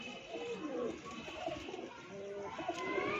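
Pigeons coo in a low, throaty, repeating rhythm at close range, steady throughout against a faint background hiss, with no talk.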